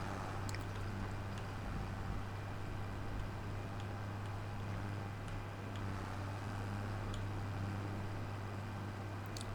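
Tractor engine in a farming video game while driving, a steady low droning hum with constant mechanical noise and no talk, unchanging and moderately faint throughout.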